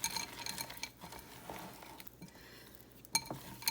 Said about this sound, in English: I'm just going to mix all them up